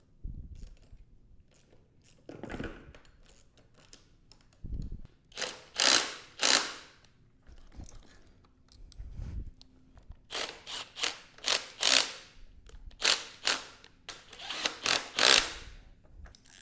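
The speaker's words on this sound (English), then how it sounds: "I got the 10 mil set to 144 inch-pounds, and I'm doing these lower." A ratchet torque wrench clicks through tightening 10 mm bolts on a Honda CBR600RR under the triple tree, in short bursts of sharp, close ratcheting separated by pauses, with no speech.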